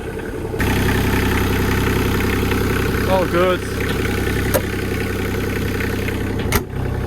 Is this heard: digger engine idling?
yes